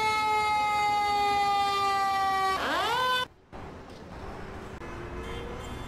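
A fire engine siren in the emergency-services video game Emergency 4 holds a steady tone, then winds down and cuts off abruptly, leaving a low background hum.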